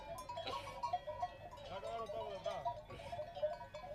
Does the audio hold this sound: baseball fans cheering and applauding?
no